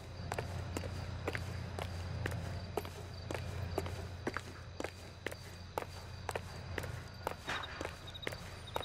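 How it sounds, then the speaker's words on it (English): Footsteps in LA Noire, a steady series of sharp, evenly spaced hard-soled steps with a reverberant echo, heard alone over a low ambient hum. "Got like the echo going for the footsteps."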